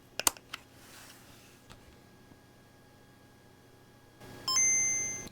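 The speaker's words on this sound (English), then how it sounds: "You hear the ping when it first starts." A Game Boy handheld console, once dead and being revived, powers on with a bright electronic ping: a few faint clicks, then a sustained high ringing tone near the end, heard alone in a quiet room.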